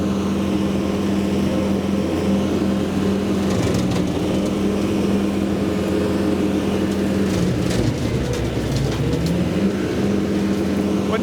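A tractor runs a Land Pride RCR1872 rotary cutter mower over a stump, a loud steady engine and blade drone with a wavering pitch and a few brief rattles and thumps.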